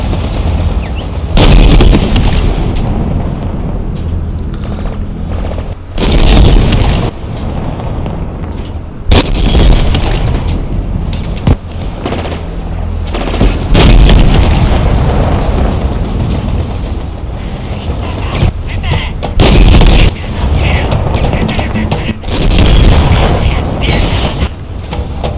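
Tank cannon fire and explosions in the video game Halo Infinite: several heavy booming blasts spaced across a long stretch, over a constant rumbling engine drone.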